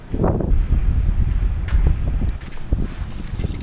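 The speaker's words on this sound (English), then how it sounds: "It's nice and breezy in here." Breeze blowing indoors, a steady low rushing buffet of wind against the microphone with soft rustling, continuous and fairly loud with no talk.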